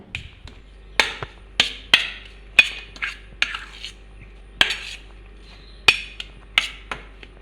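Mashed potato being mixed with salt and pepper in a bowl: a spoon knocks and clinks against the dish in a string of sharp, irregular taps, close and fairly loud, with no talking.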